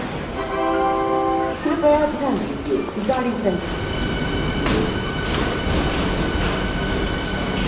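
Vande Bharat Express train running, heard from on board: a steady low rumble of wheels and carriage with tonal whines and squeals early on, a few clunks, and continuous mechanical noise throughout.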